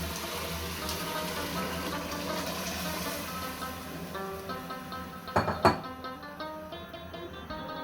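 Yakhni broth is poured into a pot of fried beef, giving a continuous watery gush with faint sizzling and a few clinks of a utensil against the pot near the end.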